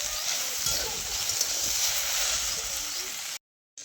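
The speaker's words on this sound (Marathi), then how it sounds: "चुलीवर आता पहिल्यांदा भेंडी टाकली फोडणीला." Okra hits tempering oil on a wood-fired stove, giving a bright, steady sizzle that stays up close and constant before cutting off abruptly near the end.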